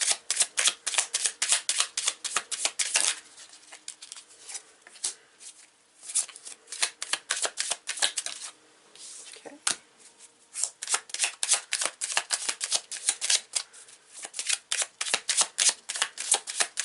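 A deck of tarot cards is shuffled in rapid riffling bursts of crisp paper flutter, close and loud, with brief pauses between rounds.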